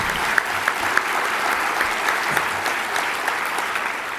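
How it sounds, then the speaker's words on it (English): An audience at a talk on legal, contracting and compliance issues gives a steady round of applause, a dense wash of many hands clapping at moderate volume for several seconds. "we all need to give him a round of applause for those efforts"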